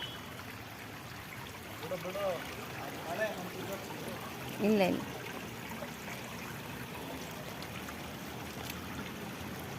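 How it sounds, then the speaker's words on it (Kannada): Heavy rainwater rushes like a waterfall and floods a house, making a continuous broadband roar as voices speak briefly over it. "ಒಳ್ಳೆ ಜಲಪಾತದಲ್ಲಿ ಸೌಂಡ್ ಬಂದಂಗೆ ಬರ್ತಾ ಇದೆ ಸೌಂಡ್."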